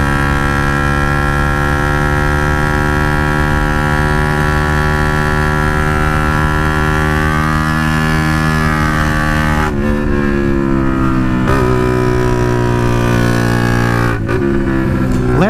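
A KTM RC125 motorcycle fitted with an unbaffled Danmoto XG-1 performance exhaust drones loudly and steadily while riding, its pitch rising and falling with brief throttle changes and gear shifts near the end.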